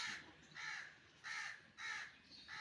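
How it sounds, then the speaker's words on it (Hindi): A crow caws outdoors in a slow series of about four harsh, evenly spaced calls, each lasting roughly half a second, moderately close over a quiet background. "हाय हाय वो ये आ गया कौवा।"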